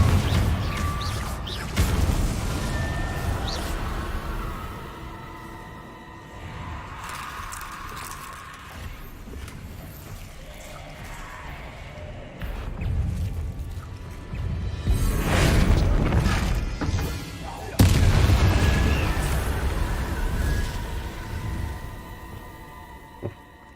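Confringo fire-blast spells cast repeatedly in the video game Hogwarts Legacy, booming explosive bursts with crackling impacts over continuous game music and ambience, loudest around the middle and later stretches.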